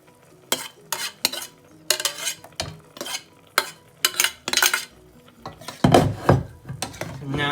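A pan of tomato spaghetti sauce on a stove over very high heat being stirred and moved, with repeated scraping and clattering strokes of a utensil against the pan in uneven bursts under a light sizzle.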